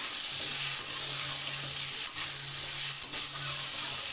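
A salty pickle mixture sizzles in a pan and is stirred, making a constant bright frying hiss close by with a low hum beneath and a few soft scraping bumps, without any talk.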